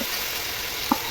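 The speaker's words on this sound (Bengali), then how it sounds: "ওই তেলের মধ্যে ফুলকপি দিয়ে দিলাম এবং ফুলকপিগুলো একইভাবে নুন হলুদ দিয়ে একটু ভালো" Cauliflower frying in oil with salt and turmeric gives a steady close sizzle, broken near the end by a single soft clink of a utensil.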